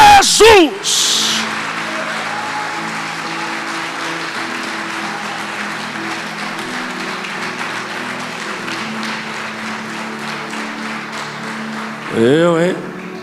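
A church congregation at a worship service applauds in a sustained, even wash of clapping, while a voice speaks or sings over the start and end.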